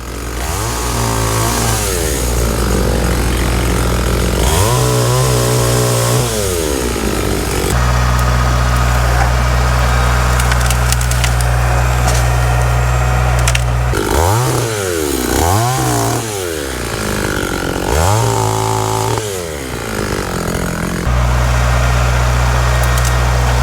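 A chainsaw cuts tree pieces into firewood outdoors, a loud continuous engine drone that rises and falls in pitch as the saw revs through several cuts, with no voices heard.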